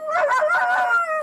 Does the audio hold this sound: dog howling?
yes